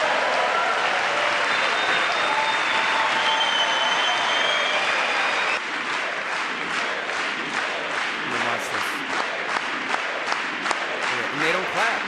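A large audience applauds a hero during a Trump speech, loud continuous clapping that thins partway through into more distinct individual claps, with cheering and voices underneath.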